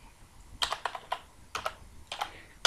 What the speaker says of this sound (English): So to do that, I'm going to type the formula again.